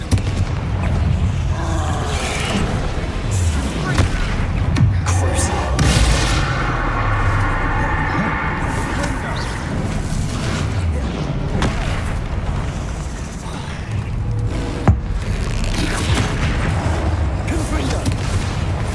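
Fiery Confringo spell blasts in the video game Hogwarts Legacy, heard as repeated booming explosions and bursting pops over a busy combat din, with a voice talking throughout.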